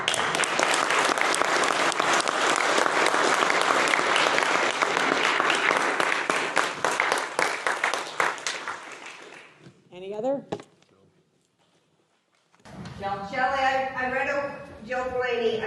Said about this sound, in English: Would we all clap for